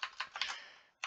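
Quick keystrokes on a computer keyboard while renaming clips in After Effects: a rapid run of four or five crisp taps, a short pause, then one more key press, close and fairly quiet.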